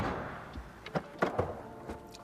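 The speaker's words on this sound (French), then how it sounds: "Le tiroir extractible." A pull-out drawer in the dashboard of a 2024 Renault Master van is handled, giving a few soft plastic clicks and thunks spaced over a couple of seconds against quiet background.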